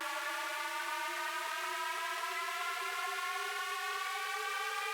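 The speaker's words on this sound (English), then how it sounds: "We've got a nice little riser." Rising synth riser in an electronic music track, a steady band of stacked tones sweeping gradually upward in pitch over about five seconds, loud and continuous with no voices.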